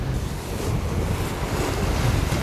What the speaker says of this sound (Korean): 아, 바람이 많이 분다.